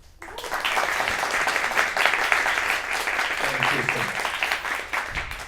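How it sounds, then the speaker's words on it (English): Audience applause for a guest of honor, a doctor, at an AI eye-care fireside chat: sustained crowd clapping that swells in quickly and holds steady, with faint voices and music-like tones underneath near the end. "let's give a huge round of applause to our guest of honor"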